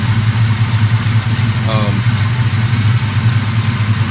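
A twin-turbo 4.6-liter 2-valve iron-block Mustang V8 with forged internals and reworked heads idles steadily, a deep, loud, continuous rumble with a brief faint chirp partway through.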